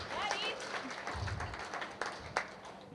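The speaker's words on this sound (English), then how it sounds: "you can clap for that" At a wedding, the audience applauds a speech: a wash of clapping and cheers under a speaking voice, swelling in short bursts.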